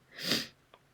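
A single sharp sneeze, close and fairly loud, followed a moment later by a faint, brief sniff.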